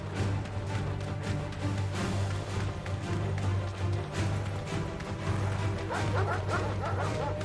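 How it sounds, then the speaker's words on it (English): Dogs bark and yip repeatedly in a Final Fantasy XVI game scene, layered over a continuous low hum of music and effects, with sharp whimpers and scuffling near the end. "Why are there dogs in the cattery?"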